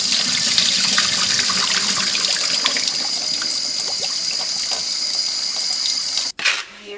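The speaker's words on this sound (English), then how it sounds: "Now we're going to drain our apples" Water pours steadily and loudly into a sink as sliced apples for a pie are drained, a continuous close hiss that cuts off abruptly near the end.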